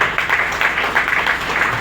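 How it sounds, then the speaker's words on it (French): A crowd at a senator's birthday event applauds, steady dense clapping filling the short moment without pause. "Applaudissons ça."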